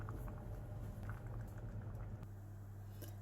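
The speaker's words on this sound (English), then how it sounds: "I'm going to leave that to simmer for about 10 minutes, and I'm going to cover it and let it cook nice and gently now" Rice and peas simmering gently in a covered pot, a faint, steady low bubbling and soft patter that holds evenly throughout with no voices.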